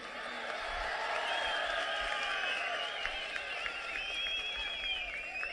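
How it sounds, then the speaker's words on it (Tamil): A large crowd at a rally in Trichy claps together in a sustained, dense roar of applause with scattered whoops and shouts, broad and somewhat distant, continuing steadily throughout. "ஓங்கி கைதட்டுங்க."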